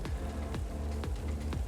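Rain falling in the rainy area of the video game Tomb Raider The Angel of Darkness, a steady, dense hiss with low, regular thuds repeating about every half second beneath it.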